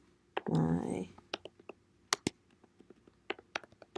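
Keystrokes clicking in short irregular bursts on a computer keyboard while an announcement is entered for a Google Classroom page, close and fairly quiet, after a brief stretch of speech at the start.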